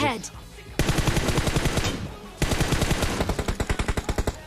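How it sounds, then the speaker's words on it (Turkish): Two long bursts of rapid automatic gunfire in PUBG Mobile, each a fast string of sharp shots, separated by a brief pause, with a faint voice at the start. "Bir dakika silah sesi mi?"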